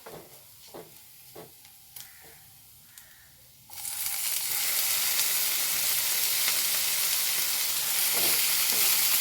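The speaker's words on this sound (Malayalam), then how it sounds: "ഇനി ഇതിലേക്ക് തക്കാളിയാണ് ഇട്ട് കൊടുക്കുന്നത്" Tomatoes hit a hot pan and a loud, steady sizzle erupts midway, following a few quiet clicks and taps, then continues close and unbroken as they fry and are stirred.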